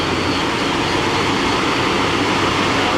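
Steady loud whirring hum of a Mori Seiki NL3000Y CNC turning center with Y-axis milling and bar feeder, spindle running at 2,000 RPM, a constant broadband machine roar close by with no talking.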